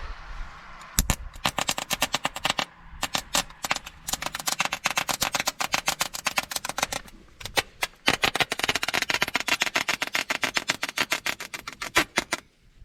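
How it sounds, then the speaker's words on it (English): Jumper cables snap and pop as they are struck together to throw sparks into tinder, a long run of sharp crackling bursts in dense, rapid clusters with brief gaps, close and loud. "It's gonna take quite a few pops together, but we'll get a lot of sparks."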